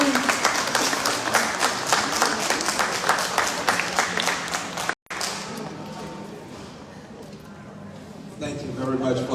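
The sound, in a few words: audience applause for Congressman Al Green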